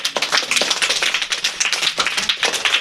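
Classroom of students at a coaching centre clapping together, a loud, dense burst of rapid hand claps that runs steadily for a few seconds.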